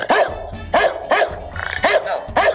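A man imitates an angry pitbull barking on a comedy show, giving five loud, harsh, growling barks in a steady rhythm with short gaps between them.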